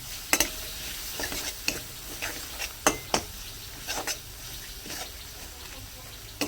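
Masala paste stir-fried on low heat for a prawn, bean, potato and cauliflower curry, with intermittent spoon scrapes and taps against the pan over a faint background hiss, close and fairly quiet.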